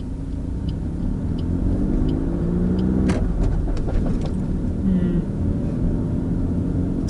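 Car with the clutch let up too fast, lurching and bunny hopping in gear, a loud continuous engine rumble with jerky low surges and a sharp clunk partway through, no talk.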